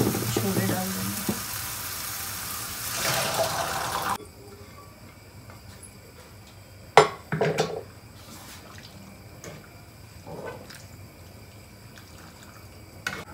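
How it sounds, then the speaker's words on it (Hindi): Boiled chickpeas hit hot roasted spice masala in a pan with a loud burst of sizzling that settles after a few seconds into a quieter fry, broken by scattered scraping and clinks of stirring. "अब हम इसमें ये उबले हुए अपने छोले डाल देंगे।"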